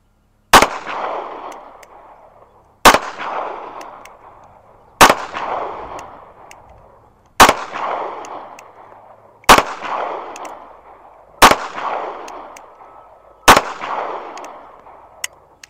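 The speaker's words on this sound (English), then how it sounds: "we'll go ahead and just shoot a string into that right side larger circle" Seven sharp, loud pistol shots from a Smith & Wesson Bodyguard 380 ring out at an even pace about two seconds apart, each trailing off in a short echoing tail.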